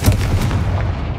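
Confringo blasting spell in Hogwarts Legacy, a single loud booming explosion with a heavy low thump and a short fading rumble.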